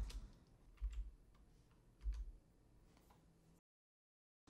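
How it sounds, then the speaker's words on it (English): Keys on a computer keyboard are pressed, arrow keys and the enter key, giving a few soft, separate clicks and taps close by, then silence. "use the arrow keys and enter key to fill out the remaining layout"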